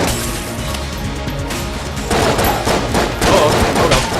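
Dense, continuous video game gunfire from Enter the Gungeon, with rapid overlapping shots and crashes filling the whole stretch and growing louder toward the end.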